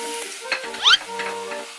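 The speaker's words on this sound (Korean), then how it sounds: "양파를 넣고 카라멜라이징을 합니다" Onions caramelizing in a hot pan give a steady close sizzle, broken by scraping stirs and a brief metallic clink of a utensil against the pan, with a faint tonal hum underneath.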